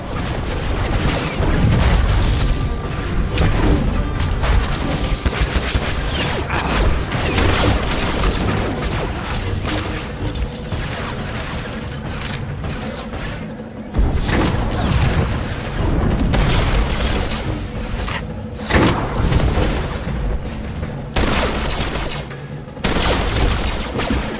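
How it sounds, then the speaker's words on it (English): Dense, continuous combat in Star Wars: The Old Republic on Taral V, with a cryo grenade thrown at troopers: heavy booms, bursts and blaster-like fire pile up loudly and nearly without pause, with brief drops around the middle. "you can see he's tossing a cryo grenade at one of the other troopers"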